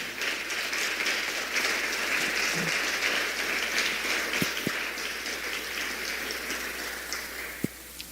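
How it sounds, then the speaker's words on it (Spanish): Congregation applause at a Christmas church service, a steady dense wash of clapping held for the whole stretch at moderate level, with a few sharp isolated claps standing out near the end. "Dale ese aplauso a nuestro Señor."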